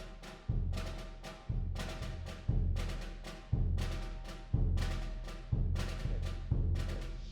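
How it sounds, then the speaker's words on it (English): A marching percussion section plays a steady beat in the trio of Sousa's The Stars and Stripes Forever, a booming bass drum landing on each downbeat under crisp cymbal and snare hits, with no voices. "The bass drum mostly is just on the downbeats"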